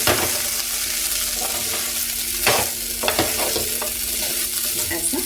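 Millet (kodo) poha mixture being stirred in a pan, a steady scraping and sizzling with a few sharper utensil knocks, close and continuous without talk.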